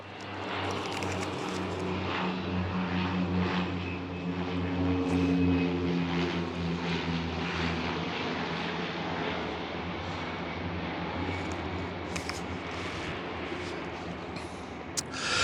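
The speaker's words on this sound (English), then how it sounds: "while this airplane lands" A propeller airplane drones loudly overhead as it comes in to land, its engine hum swelling and then gradually fading over about fifteen seconds.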